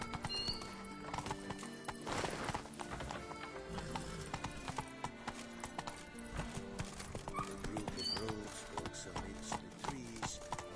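A horse gallops in The Witcher 3 video game, with rhythmic clip-clop hoofbeats, an occasional whinny and layered game music and effects running continuously throughout.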